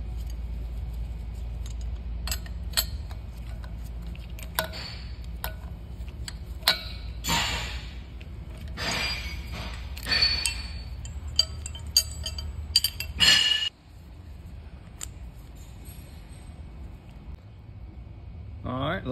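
Wrenches working a CAT C7 injector cup off its removal tool: scattered close metallic clinks and ticks with intermittent tool clanks and a louder clatter near the middle, with someone talking throughout.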